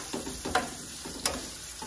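Onions sizzling in hot oil in a pan, a steady close frying hiss broken by a few stirring scrapes, with no talking.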